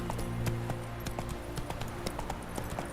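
Hoofbeats of a galloping horse in The Witcher 3, a steady rapid clip-clop rhythm running throughout over a low game music bed, fairly close and moderately loud with no talking.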